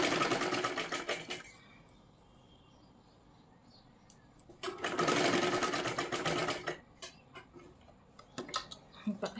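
A sewing machine stitches a boat-neck katori blouse in two long, loud whirring bursts separated by a quiet pause, followed by shorter stop-start runs.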